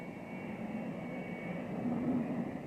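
Steady low roar of Royal Australian Navy jet engines idling and building slightly as the jets form up for takeoff, a broad rumble with a faint high whine, moderately distant.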